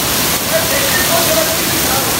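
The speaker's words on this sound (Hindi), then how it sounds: "ऊपर से सही लगता है कि छतरी से बह रहा है पानी" Water pours over the Umbrella Waterfall, a continuous loud rushing roar heard up close, with faint voices underneath.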